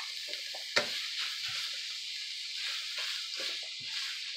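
Sausage frying in a pan on a stovetop set to 6, a continuous bright sizzle with a sharp clack early on and soft scattered pops and stirring rustles, fairly faint and alone.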